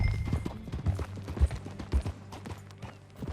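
Horse hooves in the video game Red Dead Redemption 2 clip-clop in an uneven rhythm, close and moderately loud, with occasional heavier thuds and no talking.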